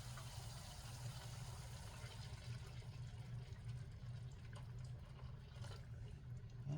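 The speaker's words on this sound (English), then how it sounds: "Come on, add more water." Water poured into a pan of homemade soul-food gravy, a steady continuous pour and trickle with a low background hum, faint and even throughout without talking.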